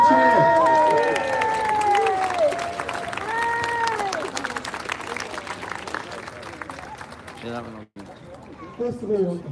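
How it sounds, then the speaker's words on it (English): A community gathering audience cheers and applauds loudly, with whoops and shouts at the start and steady clapping that tapers off, then a speaker begins talking near the end. "So give me a cheer."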